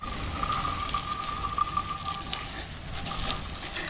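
Running water rinsing a greasy, oil-caked car tail light, a steady close gushing spray with no talk.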